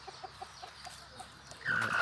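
A white bantam hen in a backyard coop gives a series of soft, evenly spaced clucks, then a louder, drawn-out squawk near the end, with no talking.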